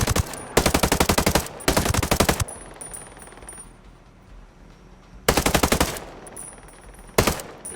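Automatic gunfire in the tactical shooter Ghost Recon Breakpoint, four loud sustained bursts of rapid shots separated by quieter gaps with faint background game ambience.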